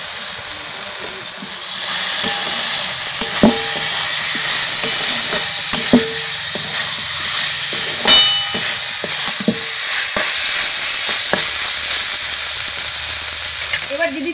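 Potatoes for a bitter gourd curry frying in spiced masala in a pan in a village kitchen, a loud continuous sizzle and hiss with scattered scrapes and knocks of a spatula, close up and without talk.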